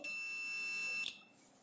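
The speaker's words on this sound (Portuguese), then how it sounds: "Primeiro, bip sonoro." A multimeter set to continuity emits a steady, high electronic beep for about a second, loud and close, then cuts off abruptly with a small click.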